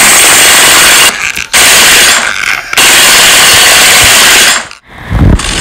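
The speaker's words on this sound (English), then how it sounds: "We need to get the drill." A toy-style power drill buzzes loudly in a dental scene, running in steady bursts broken by several brief pauses, with a harsh, gritty whine throughout and no talking.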